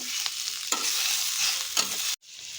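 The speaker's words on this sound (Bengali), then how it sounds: "অল্প একটু হালকা ঘিয়ের মধ্যে আমরা নাড়িয়ে চাড়িয়ে এটাকে আমরা নামিয়ে নেব" Chicken for a restaurant-style chicken do pyaza stirred and fried in a little ghee, loud close sizzling with a few scraping spatula strokes, ending in a sudden brief cut of silence before the hiss resumes.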